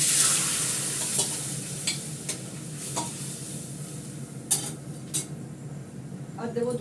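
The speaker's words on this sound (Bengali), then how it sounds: "ডালটা দিয়ে দেবো।" Dal (lentils) sizzle in a hot pan while a utensil stirs and scrapes, with repeated clinks of metal on metal against a steady frying hiss, and faint talk in the background.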